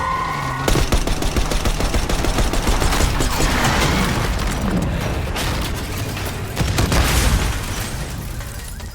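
Rapid bursts of automatic gunfire and booming explosions fill the Black Ops 6 campaign, loud and dense at first, easing briefly midway, then flaring into another volley.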